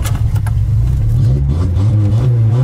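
A Volkswagen Golf engine rumbles loud and close, roaring up through several revs in a low, throaty drone with no talk over it.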